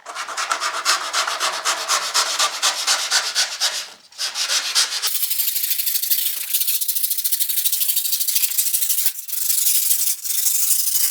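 Blade sawing through cured polyurethane spray foam insulation, a close, loud, rhythmic rasping of rapid back-and-forth strokes, pausing briefly before a second cut with a lighter, airier scraping texture.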